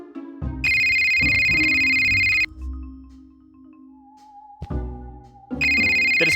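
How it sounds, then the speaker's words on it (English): A mobile phone rings in a video game, two loud electronic ring bursts separated by quieter game music and ambient tones. "I said when a phone suddenly starts ringing."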